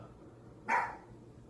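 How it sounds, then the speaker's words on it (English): A single short bark from a dog indoors, moderately loud against quiet room tone with no talking. "Sorry, that's my dog."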